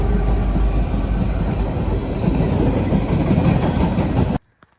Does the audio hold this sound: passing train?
yes